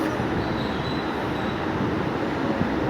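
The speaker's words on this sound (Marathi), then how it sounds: "उद्घाटन विशेष इनॉग्रल स्पेशल प्लॅटफॉर्म नंबर 1 वरून प्रस्थान करत आहे साईनगर शिर्डीसाठी" The Pune–Sai Nagar Shirdi express on its inaugural run pulls away from platform 1 at Pune station, a steady close rumble of wheels and carriages with a faint high squeal riding over it.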